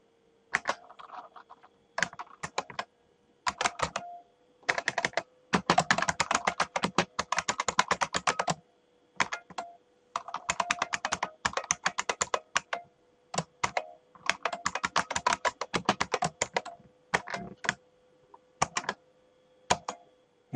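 Steady bursts of typing on a computer keyboard, fast clustered key clicks broken by short pauses, close and alone with no talking, as pseudocode for a Fibonacci sequence is written.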